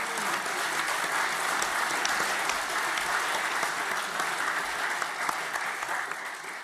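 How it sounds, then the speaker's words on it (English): A conference hall audience at the 2019 UKIP party conference breaks into sustained clapping, a dense and even wash of applause that holds steady and begins to thin toward the end. "I like that I get the clap for that"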